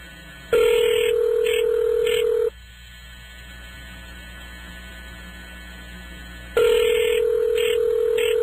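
A telephone ringing on an outgoing call, heard as two long ring tones with a stretch of quiet line hiss between them, loud and close on the line with no talk.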